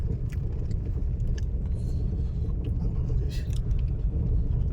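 A car climbs a dangerous high mountain road near Pangong Lake in Leh, its cabin filled with a steady low engine and road rumble, with faint rattles and no voices.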